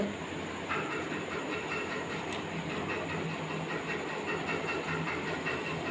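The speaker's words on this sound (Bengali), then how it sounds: "চার জল ফুটছে" Water coming to a boil in a pot for tea gives a steady, rumbling hiss with faint bubbling and occasional small clicks, close and continuous, with no talking.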